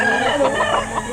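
A rooster's voice clucks and calls continuously at close range at a Saturday chicken market in Lipa, Batangas, with steady background noise and no clear pauses.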